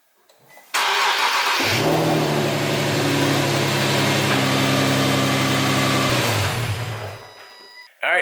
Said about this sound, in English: you're going to go ahead and start the car